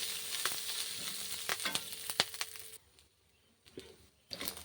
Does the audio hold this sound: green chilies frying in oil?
yes